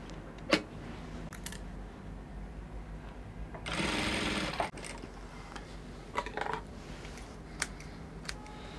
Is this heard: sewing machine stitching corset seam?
yes